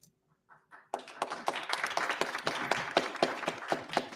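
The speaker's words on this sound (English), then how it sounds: "What are you applauding?" Following a few faint sounds, an audience bursts into applause that continues to the end, dense and lively, with individual claps standing out.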